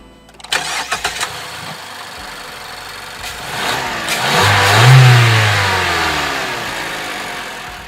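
A Mazda 2 facelift with its Skyactiv-G petrol engine cranks and fires, rising briefly in revs before settling into a steady, close idle, heard alone without talk.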